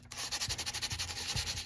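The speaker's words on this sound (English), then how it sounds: "Sand it while it's wet." Wet sandpaper rubbed in circular motions over a hard plastic repair makes a steady, close, rhythmic scratching hiss with regular pulses from each stroke.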